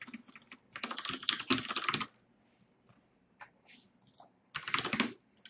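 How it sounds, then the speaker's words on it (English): Blank Dust keyboard 4 with brown mechanical switches being typed on: a dense, fast burst of key clacks, a pause with a few scattered taps, then another quick flurry, close and clear with no talking. "It's Dust keyboard 4 with like brown switches and whatnot,"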